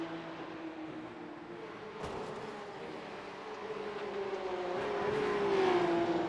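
Porsche Cup Challenge race cars blast down the hill at Mount Panorama, a steady engine drone with rising whine growing louder as the cars close in, no voices over it.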